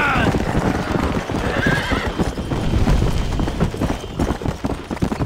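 Horse galloping during a horse race in the Red Dead Redemption video game: loud, rapid hoofbeats pounding close up from start to end, with a whinny near the beginning and game sounds mixed in.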